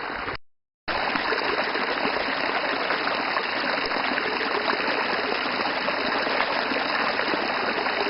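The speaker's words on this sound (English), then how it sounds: "Fresh mountain river water." Fresh mountain river water in the Appalachian Mountains rushes steadily and close by, a dense continuous wash with no voices, broken only by a brief dropout near the start.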